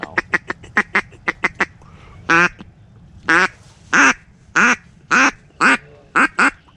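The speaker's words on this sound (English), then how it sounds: "That's a duck right there." Ducks quacking close by during a duck and goose hunt, a quick run of short sharp quacks followed by a slower series of longer, louder calls, with faint background noise.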